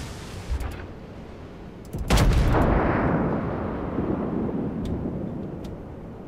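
Naval gunfire in World of Warships booms once as a heavy salvo, followed by a long rumbling decay and a few faint sharper cracks afterward, with no talking.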